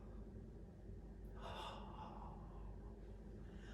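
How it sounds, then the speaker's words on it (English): A single deep breath drawn in during a core workout with a magic circle: a soft, airy inhale swelling briefly, close and alone over a low steady room hum, with no talking. "One more big breath in."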